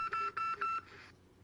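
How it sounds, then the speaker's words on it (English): A phone in Call of Duty: Modern Warfare (2019) multiplayer gives a quick run of electronic tones, three or four short beeps in a row, faint and alone with no voices over it. "Phone ringing."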